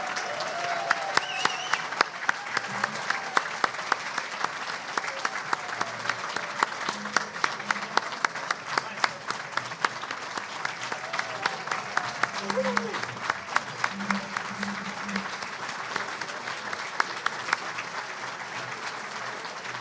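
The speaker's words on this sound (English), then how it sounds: "Please join me in a round of applause for the dedication and long-term commitment of these board members" A large gala audience applauds steadily at an awards ceremony honoring long-serving park district board members, a dense sustained clapping that stays even and moderately loud for the whole stretch.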